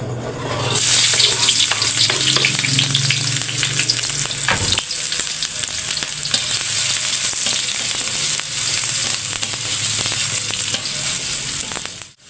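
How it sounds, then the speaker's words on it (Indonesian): Onion flowers, shallots and garlic sauté in a hot pan, giving a loud, steady sizzle and crackle with bursts of stirring scrapes throughout, close and unbroken with no voices. "Kita numis kembang bawang, bawang merah, bawang putih"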